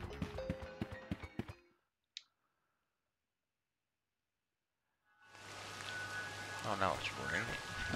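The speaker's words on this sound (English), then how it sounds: "Oh, now it's raining." Rain falls in the video game Crow Country, a steady hiss that swells in after a stretch of near silence and keeps going, following earlier clicking and a voice.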